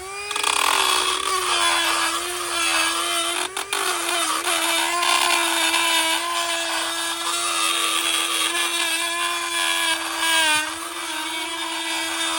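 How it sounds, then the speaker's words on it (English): A small Dremel grinding tool whines steadily and loudly while deburring metal shafts on a Claas 360RC Variant intake feed, its pitch wavering slightly as pressure changes, running almost continuously with one brief dip. "I am also making sure to grind away with a little Dremel grind tool any burrs that I may have created on the shafts"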